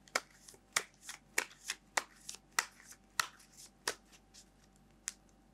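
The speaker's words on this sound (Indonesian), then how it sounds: "Biasanya habis dikocok kita tebarin ya kartunya." A deck of tarot cards is shuffled by hand during a reading, with a run of close, crisp riffling snaps and flicks in an irregular rhythm, fairly soft against a quiet room.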